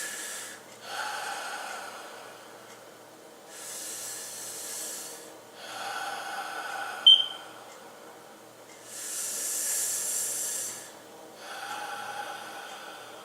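Slow deep breaths during a relaxation exercise, several long airy inhales and exhales in a steady rhythm, close and soft, with quiet pauses between them.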